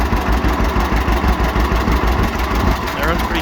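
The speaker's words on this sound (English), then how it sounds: "I've had this tractor for a couple years now." A 1936 John Deere Model AR tractor engine idles with a steady low, lumpy throb that stays loud and close throughout, its rhythm unbroken, while a voice talks over it.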